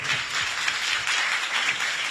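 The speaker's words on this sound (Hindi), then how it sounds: "आइए जोरदार तालियां बजाइए" A crowd at a church worship service claps enthusiastically in steady, dense applause throughout.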